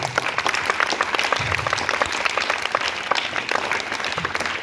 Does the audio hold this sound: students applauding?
yes